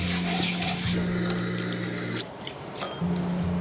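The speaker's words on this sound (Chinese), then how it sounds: "先把百合给它清洗干净" Fresh lily bulbs rinsed under a running kitchen tap, a steady close stream of water with a brief dip in flow partway through, no talking.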